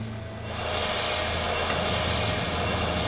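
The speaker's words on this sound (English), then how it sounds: "Those engines sure ain't at full power." Aircraft engines on a jet during takeoff, played back from flight recorder audio, make a steady, dense roar with a thin high whine above it.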